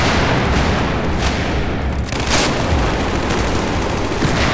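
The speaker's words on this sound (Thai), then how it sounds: "ระเบิด ระเบิดจ้า" Battlefield 4 multiplayer combat roars with continuous loud gunfire and booming explosions, a dense unbroken barrage with heavy low rumble and sharp cracking bursts throughout.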